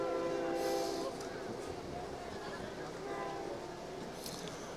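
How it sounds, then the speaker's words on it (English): A train rolls past near a high school football field in Lordsburg, a loud, steady rumble with a faint horn-like tone, continuous and fairly close throughout. "you can probably hear the train coming"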